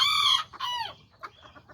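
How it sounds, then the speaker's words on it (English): A small Kikiriki Azteca rooster lets out a short, bright crow followed by a few soft clucks, close by and alone, with no voices. "It's a nice little rooster."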